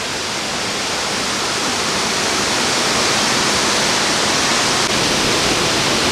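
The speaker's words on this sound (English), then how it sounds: "It looks to me like it's a natural waterfall, and they just built the dam right above it." A natural waterfall just below a dam in Ottawa, heard as a loud, dense, unbroken roar of rushing water from fairly close, with no voices.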